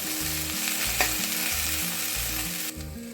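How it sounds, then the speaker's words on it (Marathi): Okra sabzi with salt and kokum sizzles and fries in a pan, with a steady crackle and the rhythmic scrape of a spoon stirring it close by, then the sizzle drops a little toward the end. "आता हे हलवून झाकून ठेवायचं 5 मिनिटं"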